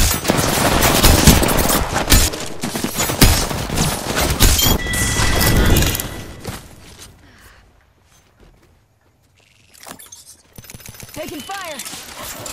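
Rapid automatic gunfire bursts in a battle-royale shooter video game with a knife heirloom, loud and dense for six seconds, then fading to quiet before scattered shots and game effects return.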